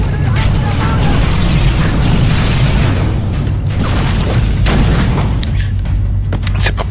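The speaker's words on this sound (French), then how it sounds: "Et l'autre me tire dessus en même temps." Sustained gunfire and booming shots from the online game Secret World Legends, dense and loud throughout, with a low rumbling bed and sharp bursts stacked over it, under a player's voice.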